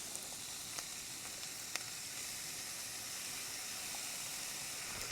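Food sizzles in a pan on a Camplux FG01AR portable camp stove, a faint, steady hiss with a few tiny pops and crackles, no voices.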